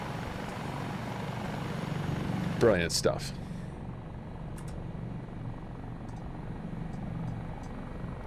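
Helicopters in Microsoft Flight Simulator produce a steady low rotor drone throughout, with someone briefly speaking partway through.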